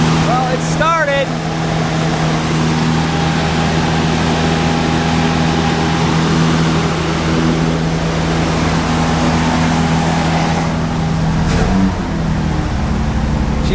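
A 1964 Lincoln Continental fitted with an Edelbrock 1406 carburetor idles high and steady just after starting, a constant close engine drone with a brief crank-like chirp at the start and no talk over it.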